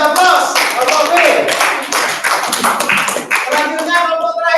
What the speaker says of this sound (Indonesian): Tepuk tangan dulu, kasih aplaus